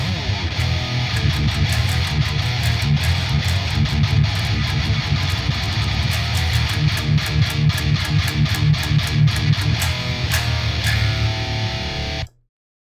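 Heavily distorted electric guitar tuned to drop D, playing a chugging riff through a high-gain amp, loud and dense with rhythmic palm-muted hits for about twelve seconds before stopping abruptly.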